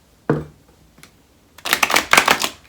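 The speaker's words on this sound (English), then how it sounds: "that was a terrible shuffle" A brief riffling burst of oracle cards being shuffled, preceded by a couple of isolated taps and clicks; close and fairly loud, no talking.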